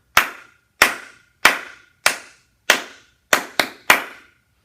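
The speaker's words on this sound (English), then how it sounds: "We're going to clap a 2-measure rhythm." Sharp, close hand claps in a two-measure rhythm, eight claps in a clean room: five evenly spaced, then a quick pair and one more, each ringing briefly.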